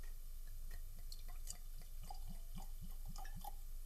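Bomberger's Declaration Kentucky straight bourbon whiskey, 2025 release, glugs from its bottle into a glass in a steady run of close, rhythmic liquid gulps, with no talking.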